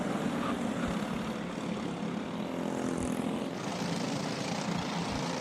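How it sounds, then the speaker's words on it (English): Four-stroke racing karts run together on the track at Adams Motorsports Park, making a steady, loud, continuous engine drone with no break and no voices over it. "there's 7 karts battling it out for position on the racetrack"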